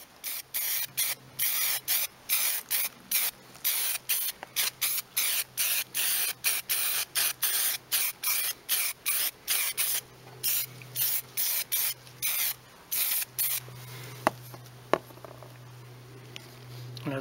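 An edge primer is sprayed onto alloy wheels in short repeated bursts of aerosol hiss, about two dozen close, loud spurts with brief gaps, ending in a longer steadier spray under a low hum.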